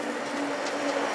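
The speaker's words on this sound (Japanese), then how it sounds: "2番線に列車が到着いたします。" Train arriving at platform 2 of Shiroishi Station in deep winter, a continuous low rumble with faint rhythmic clatter throughout a short moment, no speech.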